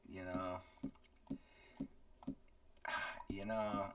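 Several sharp mouse clicks spaced about half a second apart while playing Red Dead Redemption 2, sitting between bursts of a voice speaking nearby.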